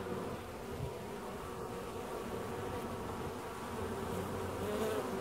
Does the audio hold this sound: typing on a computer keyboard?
no